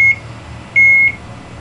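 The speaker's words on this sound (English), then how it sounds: "This thing's supposed to do this gnarly little beep" Two short, clean electronic beeps, the second held longer, ringing out loud and close against a quiet background.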